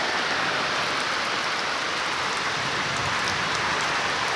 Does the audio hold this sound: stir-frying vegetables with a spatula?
no